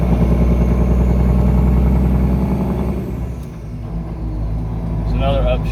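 A truck with a 13-speed manual transmission pulls hard with a loud, throbbing engine. Midway the revs drop off for an upshift, then the engine picks back up under load.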